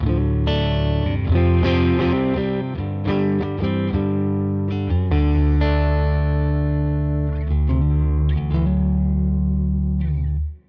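Distorted electric guitar played through a Toneking Imperial MKII amp, sustained chords and riffs ringing steadily with a thick, saturated tone for about ten seconds, no voices.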